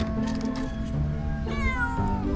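A cat meows repeatedly in close succession, loud and near, with a steady low engine-like hum running underneath throughout.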